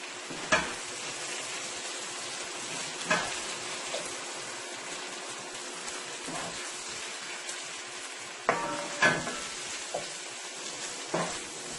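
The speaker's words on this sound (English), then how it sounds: "I fry my potato first" Potatoes frying in oil for a mackerel sardine stew make a constant soft sizzle, broken by occasional clinks and scrapes of a utensil against the pan.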